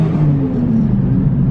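A Toyota JZX100 engine with a suspect turbo and possible boost leak runs loud and close, a thick low rumble with a steady droning tone that holds for the whole short stretch.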